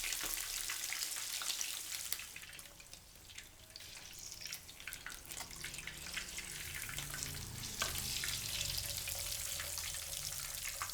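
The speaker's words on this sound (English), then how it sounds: "Fry the chicken over medium heat until golden brown and the skin is crispy" Crackling, popping sizzle of chicken frying in hot oil over medium heat, steady throughout with busy spattering bursts, close and fairly quiet with no talking.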